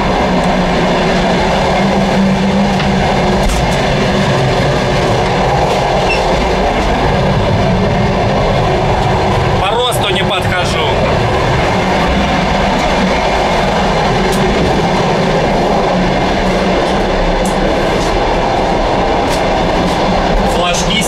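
Passenger train running steadily as heard from the vestibule between carriages in Donetsk, a loud continuous rumble and rattle with faint clicking of the wheels, getting briefly harsher around the middle, with no talk over it.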